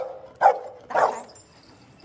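A search and rescue dog gives two short barks about half a second apart, fairly close, with quiet background afterward.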